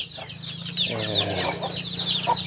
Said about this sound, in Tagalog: native Tagalog chicken